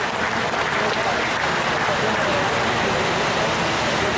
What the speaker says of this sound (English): How about a nice round of applause for this division set of steers?